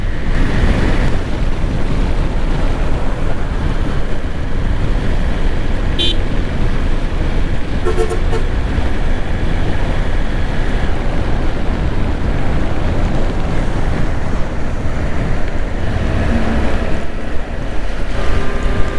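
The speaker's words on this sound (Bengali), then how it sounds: "বাতাসের প্রচুর উইন্ড ব্লাস্ট হচ্ছে এতো ফাঁকা রাস্তা আর প্রচুর বাতাসও আছে" Strong wind blasts roar into the microphone of a motorbike riding on an open, empty road from Dhaka toward Sonargaon, a loud, unbroken rushing buffet that lasts throughout with no speech.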